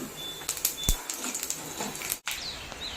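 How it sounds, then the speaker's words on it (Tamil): Cumin and pepper crackle in hot ghee, scattered sharp pops and clicks over a soft sizzle, heard close up. "நல்லாவே வெடிக்கட்டும்."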